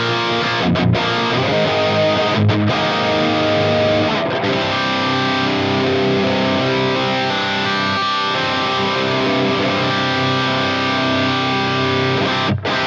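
An electric guitar played through a high-gain 100-watt 6L6 tube amp model on a Fractal amp modeler plays sustained, heavily distorted chords and notes. The tone is loud and steady, with brief choked gaps between phrases and no voices.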